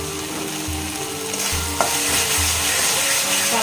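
Spice masala for katla fish stirred in a hot pan, a loud steady sizzle broken by repeated rhythmic scraping strokes of a spoon, close up and without speech.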